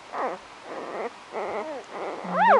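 Newborn chocolate Labrador puppies, three days old in a litter of eight, whimper and squeal in several short, rising whines spaced across the clip, ending in a louder, higher cry, close by and with no talk.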